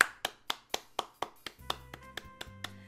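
Applause in the video game Magical Diary: Wolf Hall comes as a run of evenly spaced, crisp synthetic claps, about four per second, that soften as light background music enters.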